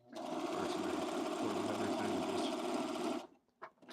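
A home sewing machine runs at a fast, steady whirring rattle for about three seconds while sewing a blazer, then cuts off abruptly, leaving a few faint knocks and rustles.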